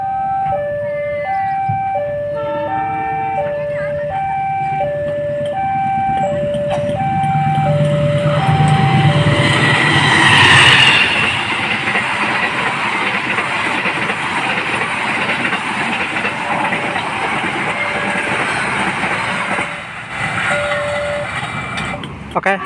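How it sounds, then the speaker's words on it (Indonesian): The Argo Dwipangga passenger train runs straight through Tanjung station: a repeating melodic horn or chime sequence gives way to a loud, steady rumble and clatter of carriages passing close by, holding for a long stretch before easing slightly. "kereta api Argo Dwi Pangga sudah melintas langsung stasiun Tanjung"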